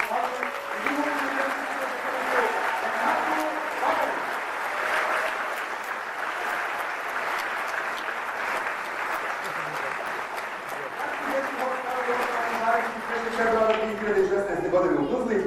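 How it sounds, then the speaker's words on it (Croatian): A live audience gives sustained applause for a city children's choir in Tuzla, a dense, steady wash of clapping for about fifteen seconds, with a voice or music faintly audible over it at times. "Pozdravite jednim velikim aplauzom gradski dječji hor Slavu"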